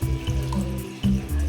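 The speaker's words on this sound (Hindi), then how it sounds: "तो चलिए इसको डिप कर दिया पानी में" Water sloshes and splashes in a kitchen sink or bowl as vegetables are dipped and rinsed, a close, continuous wet swirl with a couple of louder pours.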